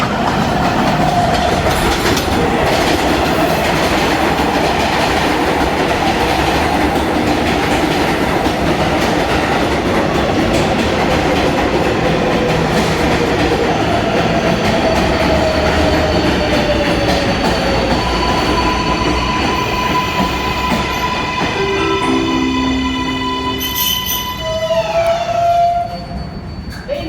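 An NYC Subway R188 train on the 7 Line rumbles and clatters loudly and steadily up close, its motor whine shifting in pitch, with rising electric tones and a brake squeal near the end.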